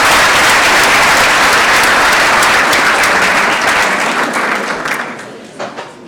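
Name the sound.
applause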